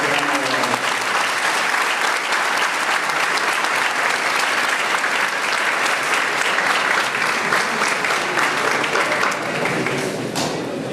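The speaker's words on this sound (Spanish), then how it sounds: "Es oportuno brindarle nuevamente un fuerte y reconocido aplauso." A lecture audience gives sustained, dense applause that stays loud and steady for about ten seconds before tapering slightly at the end, with no talking over it.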